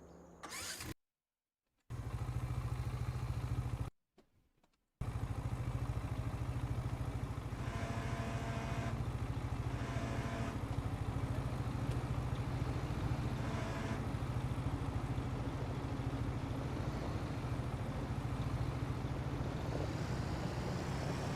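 John Deere tractor engine in Farming Simulator 25 starting after brief cutouts, then settling into a loud, steady drone with a low hum and occasional rising revs, no talk.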